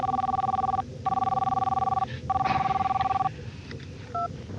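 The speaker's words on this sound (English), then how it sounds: "I've got a very important phone call to make." An old telephone rings in loud, repeated electronic trills separated by short gaps, followed by a few brief dial tones, close and clear with faint background sound.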